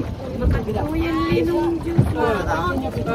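A small outrigger boat moving on water at the Hundred Islands, Pangasinan, with steady wind and water noise and people chatting and calling out over it.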